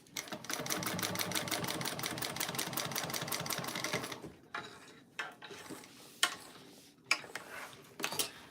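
A sewing machine runs in a fast, even stitching rhythm for about four seconds while top stitching a bag, then stops, followed by a few scattered clicks and handling knocks.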